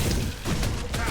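A flashbang-style explosion goes off in a video game, triggered by the Pretty Great Pants proc: a short, dull thump-like burst, then a second softer one, over steady game noise.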